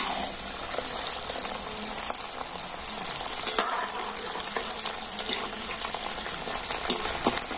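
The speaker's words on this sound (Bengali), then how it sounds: "এবারে আমি ছোলার ডালটা ভেজে নেব" Chana dal sizzling and bubbling in hot oil as it fries, a steady close crackle with foaming hiss running throughout, no voices.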